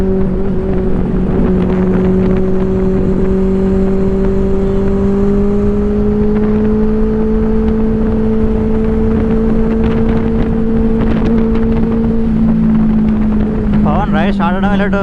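A motorcycle engine under strong, steady acceleration at the start of a weekend group ride, with a rising drone heavily blended with wind rush, loud and continuous and without speech.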